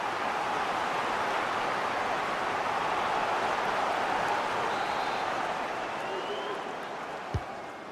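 Football stadium crowd in a video game featuring Port Vale FC, a continuous broad roar of cheering and applause that stays steady, then thins slightly near the end.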